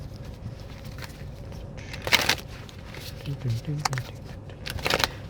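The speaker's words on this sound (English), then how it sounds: "one more shuffle" A tarot card deck is shuffled in a few short, crisp riffling bursts, close up, separated by quieter pauses with faint handling noise.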